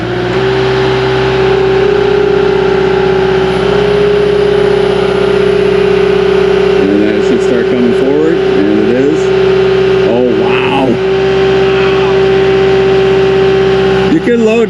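A Cat 259D3 compact track loader idles steadily nearby with a constant loud drone and a strong tonal hum, while voices talk briefly over the engine partway through.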